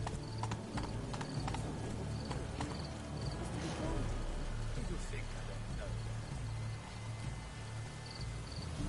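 Horse hooves clip-clop at a trot in The Witcher 3, a steady rhythmic beat over game ambience with insects chirping and occasional tonal chimes.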